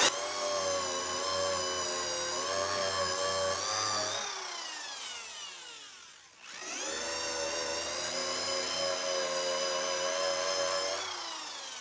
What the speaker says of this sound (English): I switched over to a corded drill, and I think this is gonna be a little bit better